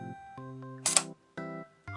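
A Leica DIII rangefinder camera shutter fires on the bulb setting, with a sharp metallic click opening and closing over a steady low hum, close and distinct.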